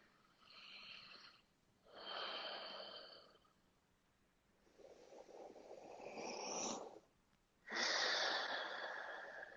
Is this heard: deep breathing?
yes